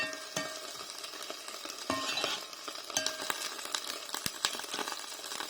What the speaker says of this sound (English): I can hear it, basically simmering down